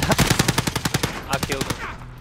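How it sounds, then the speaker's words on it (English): Rapid automatic gunfire from a Call of Duty Warzone match, a fast run of sharp, loud bursts for about a second and a half, then a few more scattered shots trailing off. "Hey, I'm getting shot at."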